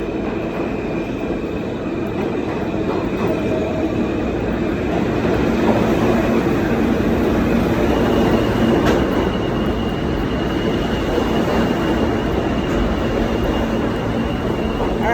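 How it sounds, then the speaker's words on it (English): A New York subway F train bound for Coney Island at the Jay Street MetroTech station fills the platform with a loud, continuous rumble of rolling cars, faint high wheel squeal and a few metallic clicks, without talk. "I'm waiting for the Coney Island F train at J Street Metro Tech"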